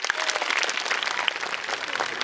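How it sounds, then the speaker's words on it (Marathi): A crowd of women at a village Home Minister comedy-games event claps in a steady, fairly quiet patter of many hands lasting a couple of seconds, with no talking over it. "टाळ्या वाजवून सांगा."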